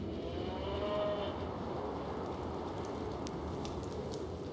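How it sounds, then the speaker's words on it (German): In the video game Baldur's Gate Enhanced Edition, a cow gives a low, drawn-out moo early on over a steady murky ambient background, fairly distant and alone with no speech. "Da haben wir auch eine freundliche Kuh"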